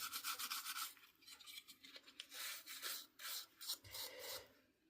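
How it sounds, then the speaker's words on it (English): An old Hornby James model locomotive body being scrubbed, with close, rapid, raspy brushing strokes in uneven bursts and no talk. "So now I will give the body a bit of a scrub down."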